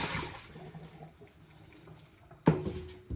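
Soaking water tipped off broccoli and carrots into a sink, a soft splashing pour tapering to trickles, followed by a sudden louder gush near the end.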